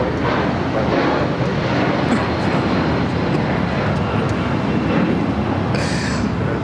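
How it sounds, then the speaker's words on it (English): A United Airlines Boeing 757-200 takes off from LAX bound for Newark, a continuous loud jet roar heard from a distance, steady throughout with faint background noises. "This is United Airlines 1939 taking off to Newark on the 757-200"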